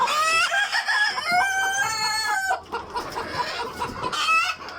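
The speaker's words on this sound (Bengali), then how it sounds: "এই যে আমাদের মুরগিগুলা" Egyptian Fayoumi laying hens clucking and calling in a close, busy chorus, with rooster-like crowing mixed in, loud and continuous with no talking.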